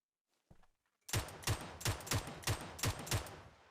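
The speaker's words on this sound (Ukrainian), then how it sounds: "До речі, знизу досі хтось стріляється." A rapid burst of loud Mk 47 Mutant gunshots in New State Mobile fires in a steady rhythm, about eight evenly spaced cracks following a brief faint shot.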